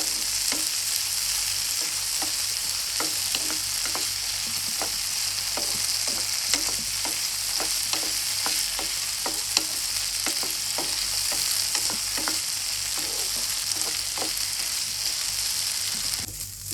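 Okra and tomato sautéing in oil for a Kerala sadya-style sambar, a steady close sizzle with repeated stirring scrapes throughout, no talking.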